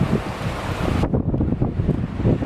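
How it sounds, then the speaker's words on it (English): Kennebecasis River water laps against shoreline rocks below a waterfront home near the harbor. A rushing wash with wind noise dominates at first, then drops to low, rolling splashes. "listen to that sound, the water against the rocks"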